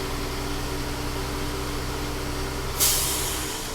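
A truck's air brake governor sneezes out a sharp hiss of released air at 125 psi near the end, cutting through a steady idling engine hum and tapering off over about a second.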